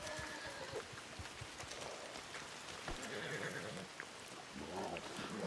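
A horse in the Red Dead Redemption 2 game gives a neigh amid hoof clip-clop and a soft patter of rain, all fairly quiet in the mix.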